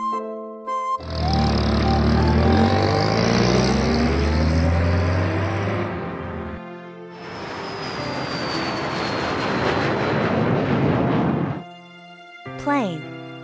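A cartoon airplane engine roars in two long, steady bursts of broadband whine and rumble, the second with a slowly falling high whistle, followed by a short sound at the end.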